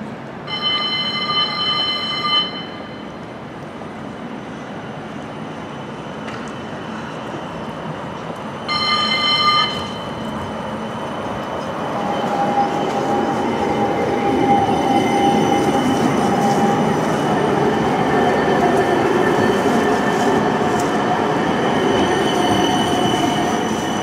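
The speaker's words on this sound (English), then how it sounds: "here comes the next tram to arrive, so I will film that going out" A West Midlands Metro tram pulls away from a stop in Birmingham on a Wolverhampton service, with a couple of warning chimes, then a rising electric motor whine and wheel squeal growing louder as it departs, without talk.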